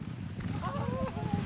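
Polo horse hooves clip-clop on the ground in Argentina, a quick run of light, rhythmic steps mixed with a brief whinny over a constant outdoor background.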